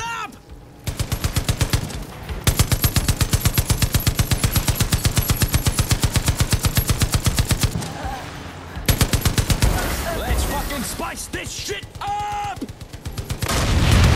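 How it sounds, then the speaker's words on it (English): Sustained bursts of high-powered machine gun fire in the zombie mode of the video game Far Cry 5, a loud rapid rhythmic rattle running for seconds with brief pauses, then scattered shots and game effects with some talk. "A fucking high-powered machine gun?"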